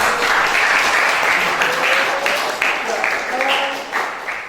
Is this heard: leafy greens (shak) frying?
no